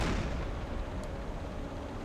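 A submarine deck gun in Silent Hunter 4 fires at a ship as a single deep, rolling boom that fades into a long low rumble, with no voices and the sea in the background.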